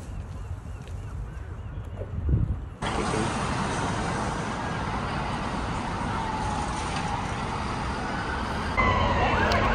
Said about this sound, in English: we've got police cars and ambulances